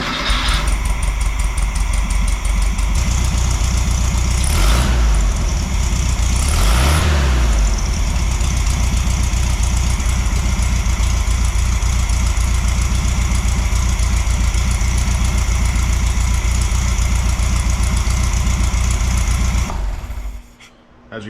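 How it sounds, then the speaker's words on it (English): A 1958 Volkswagen Beetle engine, freshly swapped in, idles steadily up close for a long stretch, a rough rumbling drone with a couple of brief revs early on before cutting off. "As you guys can see, the engine's in and it runs."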